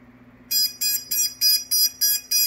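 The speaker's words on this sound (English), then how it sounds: "the motor is beeping" A series of short, evenly spaced high-pitched electronic beeps from a Tyro 129 quadcopter drone's motor with uncalibrated throttle, seven in quick succession, loud and close over a faint low hum.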